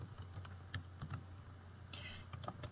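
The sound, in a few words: typing on a computer keyboard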